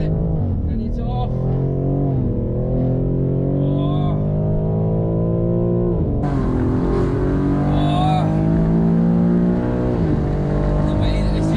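A BMW G80 M3 fitted with an MSS lowering kit, driving a bumpy carousel banked corner: loud, close engine drone with rising and falling pitch as it pulls through, tyres squealing in the corners, with a voice over it.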